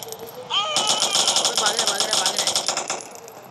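Rapid automatic gunfire in a superhero video game, a dense run of loud bursts lasting about three seconds, with a quieter tone before it and fading at the end.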